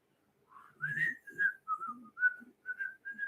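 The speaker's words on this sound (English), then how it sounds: "Yes, I do whistle while I work." A man whistling a short tune while working, a run of clear, steady whistled notes close to the microphone, fairly quiet, with no talking.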